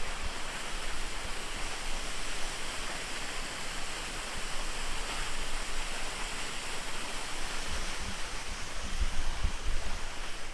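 A steady, loud roar of falling water, dense and continuous throughout, with no voices.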